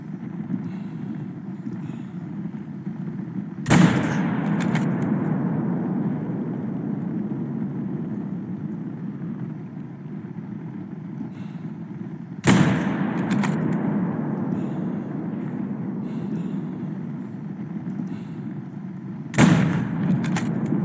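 Rifle shots from the hunting video game Call of the Wild, a moose hunt in the Medved Taiga reserve: three sharp, loud single cracks spaced several seconds apart over a steady low ambient rumble.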